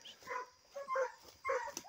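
Dogs barking at night while hunting an armadillo, three fairly faint, distant barks in a loose rhythm with quiet gaps between them.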